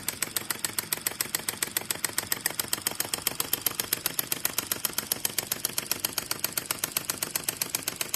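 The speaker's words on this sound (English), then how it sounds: "vacuum engine with what look like cast flywheels, two big flywheels running nicely" An Enjomor vacuum (flame-licker) engine with two large cast flywheels runs steadily, giving a fast, even train of crisp mechanical ticks that is close and holds a constant pace throughout.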